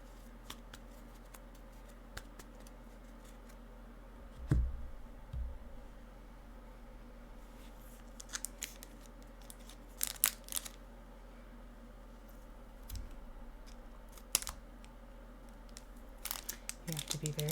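Scissors snipping open a Pokémon Crown Zenith card pack close to the microphone: sparse, quiet snips and clicks with light foil crinkling, spread across a mostly hushed stretch.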